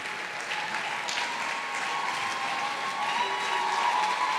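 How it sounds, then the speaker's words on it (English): Sustained applause from a conference audience welcoming a speaker at Bowen University, a thick, even roar of many clapping hands that holds steady throughout, with faint crowd voices and a tonal ringing mixed in. "Ladies and gentlemen, with a resounding round of applause"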